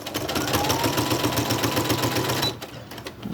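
A sewing machine stitches along the bottom of a book page, its needle hammering in a fast, steady mechanical rhythm close up for about two and a half seconds before stopping, leaving quieter room sound.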